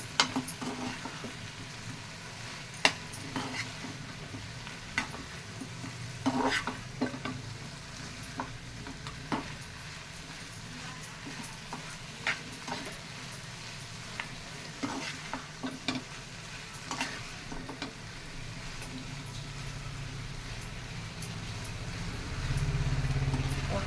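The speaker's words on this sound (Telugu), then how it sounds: "ఇవి మంచిగా ఈ గ్రేవీ అంతా పట్టాలి ఇలా కలుపుకోవాలి" Cabbage manchurian being stirred through gravy in a pan, with scraping spoon strokes and a low steady sizzle throughout, growing slightly louder near the end.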